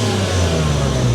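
Toyota MK4 Supra engine with a Greddy blow off valve revving, a loud, close, sustained engine drone holding a steady pitch over a very short stretch with no talking.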